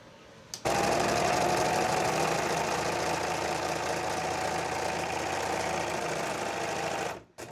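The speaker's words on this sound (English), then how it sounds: "I'm gonna go ahead and serge this up on the straight side right here" A serger overlock machine runs steadily along the straight edge of fabric for a summer top, its loud, even mechanical whir starting abruptly after a short pause and holding for several seconds before stopping.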